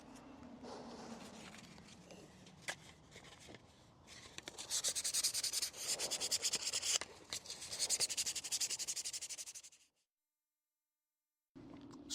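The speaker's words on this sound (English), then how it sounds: "First 80 grit with the foot sander, then 220 grit, and then 800 grit on both." Foot-powered sander with 80, 220 and 800 grit paper working over a Rogue One Rebel helmet, a steady close scratchy rubbing in long bursts that stops abruptly, then resumes briefly after a short silence.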